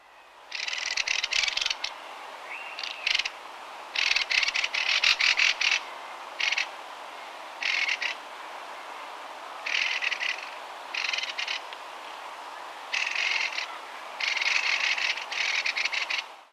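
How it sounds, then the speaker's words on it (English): Mistle thrush giving its dry, wooden rattle call, a series of short harsh churring bursts repeated irregularly over about sixteen seconds, fairly close and clear against a quiet background with no talking. "The mistle thrush, however, has a unique dry wooden rattle"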